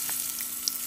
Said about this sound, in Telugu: ఇప్పుడు దాంట్లో కొంచెం తాలింపు వేస్తున్నాను.